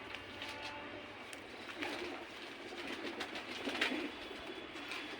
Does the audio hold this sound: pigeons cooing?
yes